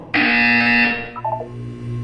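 A loud electronic buzzer sounds once in the Portal 2 video game, a harsh sustained tone lasting under a second, followed by a short descending beeping chime and a lingering hum.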